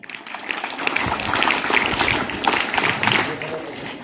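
A crowd claps together at an Independence Day celebration in India, a dense steady patter of applause that swells and holds for a few seconds.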